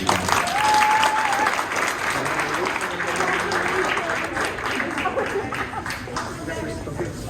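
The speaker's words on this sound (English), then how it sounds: "Clap it up for him." Applause at a school board of education meeting for a QuestBridge scholarship recipient, a loud, dense burst of clapping from a seated crowd that slowly tapers, with some chatter and a voice mixed in.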